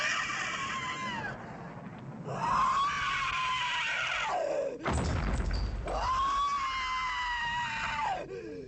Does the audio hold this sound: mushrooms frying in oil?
no